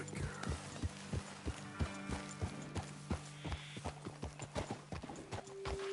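Horse hooves clip-clop at a steady walking pace in Red Dead Redemption 2, distinct regular thuds over a faint low hum, fairly quiet and close.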